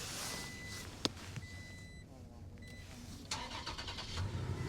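A Toyota truck engine, freshly tuned, starts with a sharp click and crank, then settles into a quiet idle with some rustling handling noise nearby.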